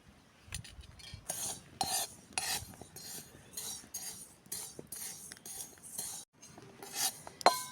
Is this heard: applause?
no